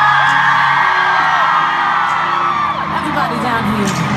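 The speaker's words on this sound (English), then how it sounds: "let me hear you scream." A large concert crowd at a world tour concert in Dublin screams and whoops loudly and continuously, high shrieks piercing a dense, sustained roar.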